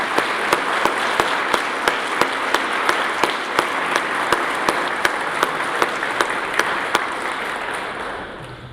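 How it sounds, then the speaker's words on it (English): Audience applause fills a Veterans Day event, a steady spread of clapping with one sharp clap cutting through at a regular beat, tapering off in the final second. "Let's give Grace and everyone else a round of applause."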